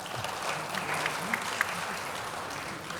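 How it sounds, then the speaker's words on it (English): An audience applauds speakers at a conference session on regional geopolitics, security and economics: steady, dense clapping fills the hall for the full three seconds, fairly distant and even, with a couple of sharper claps standing out. "Kindly join me for applauding them"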